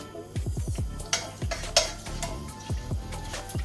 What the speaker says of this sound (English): Allow this to fry.